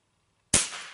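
A single sharp shot from a Benjamin Discovery air rifle firing a Crosman pellet, a loud close crack followed by a brief decaying ring, with nothing else heard.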